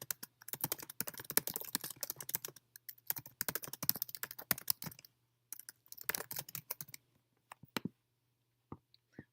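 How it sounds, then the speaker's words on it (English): Fast, dense clicking on a computer keyboard, bursts of rapid keystrokes separated by short pauses, with a low steady hum underneath and a few isolated taps near the end. "Wow, you type so fast."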